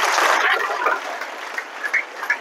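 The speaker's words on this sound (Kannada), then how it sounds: "ಇಬ್ಬರಿಗೂ ಕೂಡ ಜೋರಾದ ಚಪ್ಪಾಳೆ." Loud applause at a government high school event, starting as a dense burst of clapping from a crowd and thinning out into scattered claps within a couple of seconds.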